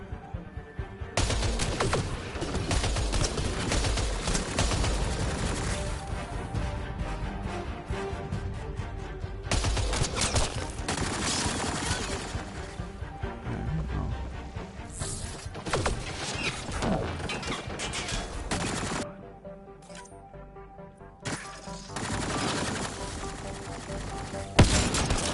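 Sustained enemy gunfire in the sci-fi shooter Mass Effect: Andromeda, loud and near, with dense overlapping bursts and rattling impacts running almost continuously, briefly thinning about three quarters of the way through before resuming.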